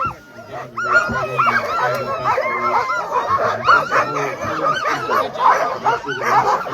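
Excited sled dogs at the start of the Copper Basin 300 race in Alaska bark, yip and whimper in a dense, overlapping chorus close by, loud and continuous, with the crowd and voices mixed underneath.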